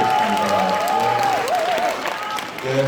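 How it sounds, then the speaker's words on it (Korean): Audience at a Korean political event clapping in a steady wash of applause, with a voice speaking over it through most of the stretch. "여러분 뜨거운 박수 부탁드리겠습니다"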